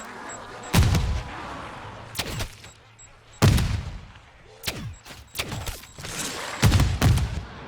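Explosive-tipped Torque 35 bow arrows bursting in Modern Warfare Zombies, several heavy booming blasts spaced a second or two apart, each with a sharp crack and rumbling tail over quieter game ambience.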